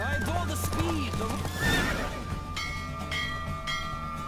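Horse neighing and whinnying with clip-clop hoofbeats during a horse race in the Witcher 3 video game, a clear close whinny over steady galloping rhythm and continuous game background.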